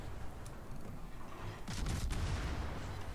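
Distant gunfire in a naval warship video game, a muffled rumbling volley of booms swelling midway over continuous low background noise, no voices.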